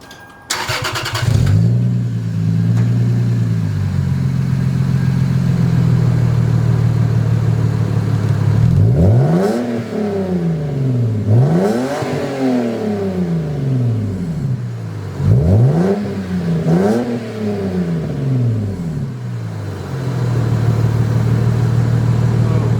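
A Lexus IS300 fitted with a GReddy Revolution RS exhaust starts up, settles into a loud close idle, then gets several sharp revs in pairs that rise and fall back to idle.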